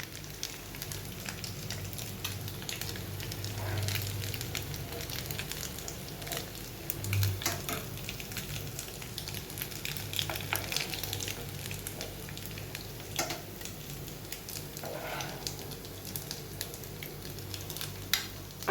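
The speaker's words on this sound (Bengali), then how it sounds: "এইভাবে আমি সব কোপ্তাগুলোকে ভেজে নেব।" Paneer koftas frying in hot oil, a soft, continuous crackling sizzle with occasional pops, fairly faint and heard alone.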